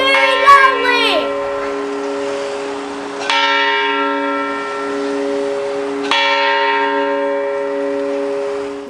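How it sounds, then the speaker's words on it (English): Mission church bells at San Diego Mission de Alcala ring loudly, with two fresh strikes a few seconds apart whose long harmonic tones hang and slowly fade, preceded by a brief shout. "The bells ring very loudly!"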